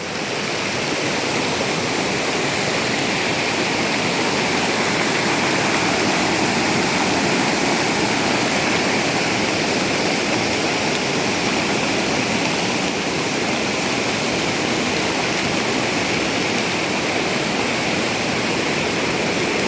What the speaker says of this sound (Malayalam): ഇതാണ് ശരിക്കും തോട് പോകുന്നത് ഇതാണ്